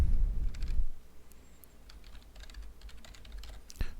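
Computer keyboard typing while JavaScript code is written, soft irregular key clicks in quick bursts, close and fairly quiet, with no voices.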